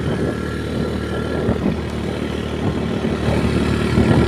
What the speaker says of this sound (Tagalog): halos ayaw nang umakyat ng 40 yung motor natin